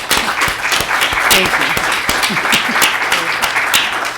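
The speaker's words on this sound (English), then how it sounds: "Is it possible if we could give these ladies a round of applause," People at a city council meeting give a round of applause, a lively burst of close hand claps with sharp individual slaps, while voices speak over the clapping.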